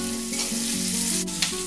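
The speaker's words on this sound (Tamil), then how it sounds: "வெங்காயம் சீக்கிரம் வதங்கிறதுக்கு கொஞ்சம் உப்பு ஆட் பண்ணால் கொஞ்சம் சீக்கிரம் வதங்கிடும்" Chopped onion fries with a little salt in a pan while making dal makhani. The close, steady sizzle carries on with a few brief stirring scrapes and no talking.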